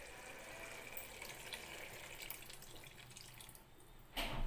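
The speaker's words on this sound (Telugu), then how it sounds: "దీని అయితే పులుసు పీసుకుని దీంట్లో పోసుకోవాలండి" Tamarind juice poured into a simmering fenugreek curry makes a steady, close liquid splashing and trickling that runs alone throughout, with a louder burst near the end.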